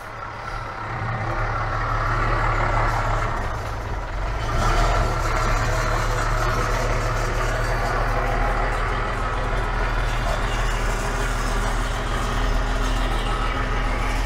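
Star 266 truck engine running slowly at low throttle, a steady deep rumble holding at constant loudness throughout, close by with no talk over it.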